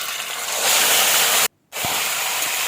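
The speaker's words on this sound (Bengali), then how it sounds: "তেজপাতা দেওয়ার পরে আমি মাংসগুলো সব ঢেলে দেবো।" Mutton pieces are poured into hot oil with bay leaf and hiss loudly in a steady, close sizzle that cuts out abruptly for a moment and then resumes just as strongly.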